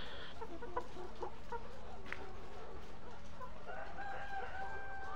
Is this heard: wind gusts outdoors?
no